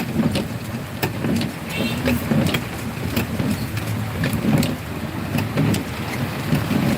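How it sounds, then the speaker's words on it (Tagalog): Heavy downpour around a building during a storm season, a dense steady hiss of rain with scattered sharper drips and splashes, constant and fairly loud with a low rumble beneath. "lakas ng ulan"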